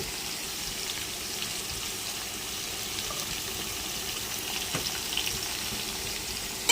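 Vegetarian ridge gourd and bean seed curry spiced with salt, turmeric and chili powder, frying in a pan while being stirred, giving a steady soft sizzle with light scraping and no talk.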